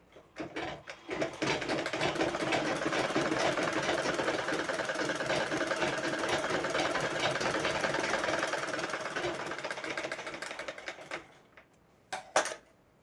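A sewing machine runs steadily for about ten seconds, stitching the lining cloth of a blouse with a fast, even mechanical chatter, then stops, followed by a couple of brief clicks.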